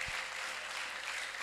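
Congregation applause at a church service, a dense, steady wash of many hands clapping close by, holding at an even level throughout.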